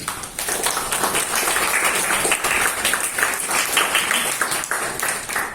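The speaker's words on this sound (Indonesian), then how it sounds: "Tepuk tangan dulu nih buat narator kita kali ini." Audience applause after a group presentation in a discrete mathematics class, a dense, steady wash of many hands clapping continuously at close range for several seconds.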